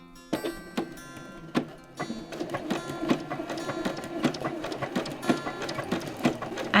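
A sewing machine stitches a quilted table runner, a steady fast rattle of needle strokes with brief pauses and restarts, close and moderately loud.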